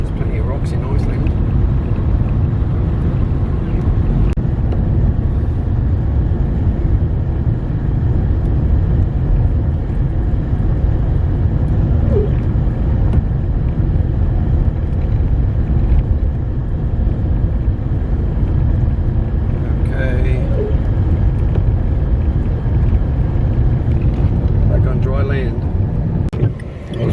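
Steady in-car road rumble while a car drives through Iceland, a loud, constant low roar of tyres and engine throughout, with big trucks rushing by faintly now and then.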